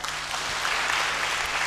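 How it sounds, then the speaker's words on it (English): Steady applause from a church gathering's audience, dense and continuous with no talk over it. "Let's clap for each other."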